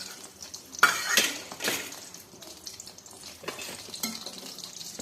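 Vegetable samosas frying in hot oil hiss and sizzle steadily up close, with a few louder bursts of bubbling and a light clatter of a utensil, and no talk.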